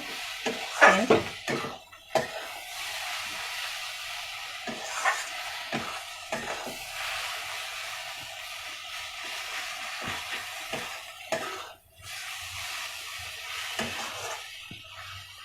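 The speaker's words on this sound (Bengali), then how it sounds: "একটু ভালো করে ভাজা ভাজা হচ্ছে" Whole spices and black pepper powder sizzling in oil in a pan, a steady soft frying hiss with occasional scrapes and stirring clatter from a spatula, close and fairly quiet.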